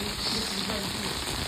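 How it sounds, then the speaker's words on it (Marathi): Steady rain falling outdoors after a downpour near farm fields, a dense, even wash of patter with no break, loud and close across the whole moment. "पाऊस झाला"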